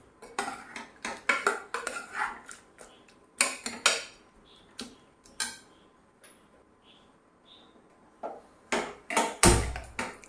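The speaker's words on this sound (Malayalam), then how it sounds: "നമുക്ക് പതുക്കെ ഒന്ന് ഉടച്ചു കൊടുക്കാം" Cooked plantain is gently mashed in a cooking pot for kaya payar erissery, giving a series of soft utensil knocks and scrapes against the pot in irregular clusters, close by with quiet gaps between, and no one talking.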